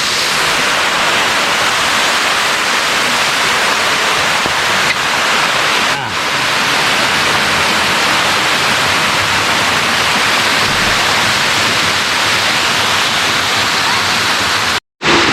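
A waterfall, Wang Pa falls in Bandarban, roars steadily and loudly throughout, a dense broadband rush of falling water close by, cutting out briefly near the end.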